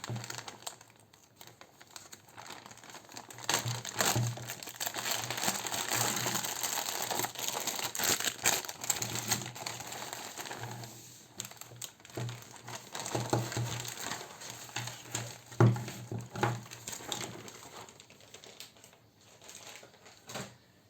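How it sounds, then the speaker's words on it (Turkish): Transparent plastic bag holding a car cleaning kit being opened, with continuous crinkling and crumpling, close and fairly quiet, in bursts of handling over about twenty seconds. "Paketimizi açalım."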